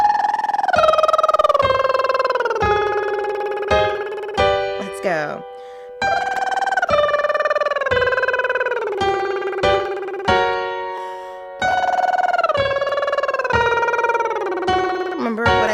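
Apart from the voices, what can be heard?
descending arpeggio sung as lip trills in a vocal warm-up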